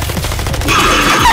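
Gunfire in the video game Electric State, a loud dense burst of rapid shots blending into a continuous roar over about a second and a half, with no talking.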